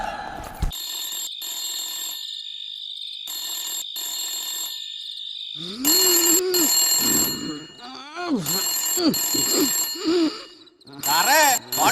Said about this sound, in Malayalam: ഫോൺ ബെല്ലടിക്കണു